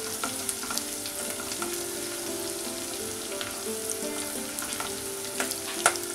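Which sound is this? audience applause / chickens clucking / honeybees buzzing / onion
onion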